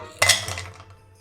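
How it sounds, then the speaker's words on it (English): Five ice cubes tumble out of an Owala insulated bottle, giving a quick cluster of clinks and a rattling clatter that fades within a second, fairly quiet and close. "Gonna dump it out. We have 5 ice cubes."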